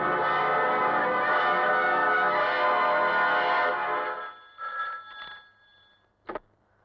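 An old-style telephone bell rings in a continuous loud burst for several seconds, then cuts off, followed by a short fainter jingle and one final brief clank, with no talk over it.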